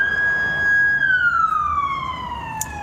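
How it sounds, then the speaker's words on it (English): An ambulance siren sounds from across the street, holding a steady tone that then drops and slides lower, clear and fairly prominent over light background noise. "There's an ambulance place right across the street."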